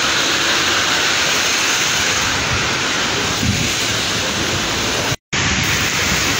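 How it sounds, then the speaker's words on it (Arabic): Heavy rain pours steadily over the city of Meknes, a dense, continuous broadband hiss with no talk, broken only by a brief dropout near the end. "امطار قويه في هذه الاثناء"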